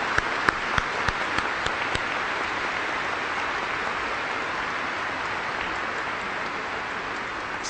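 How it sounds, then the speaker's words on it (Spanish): A congregation at a Saturday Mass for the Virgin of Guadalupe breaks into warm applause, a few sharp claps at first settling into a steady, moderately loud patter of many hands that continues throughout. "Saludemos con un caluroso aplauso a nuestra Santísima Madre."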